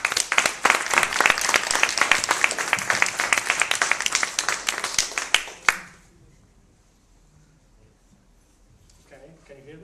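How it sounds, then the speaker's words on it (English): An audience claps steadily for about six seconds in a talk venue, a dense loud patter that stops abruptly and leaves quiet room noise with faint speech at the end. "A big applause for him."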